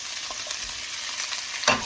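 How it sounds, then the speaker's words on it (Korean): Carrots stir-fried in a pan hiss with a steady close sizzle, and a sharper scrape of the spatula lands near the end; no voices. "이렇게 볶고 당근 당근 또 볶고"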